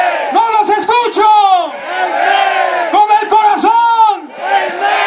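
A large crowd at a Mexican electricians' union (SME) rally in Mexico shouts letters in unison, loud rhythmic call-and-response bursts separated by brief gaps, voices strained and ringing.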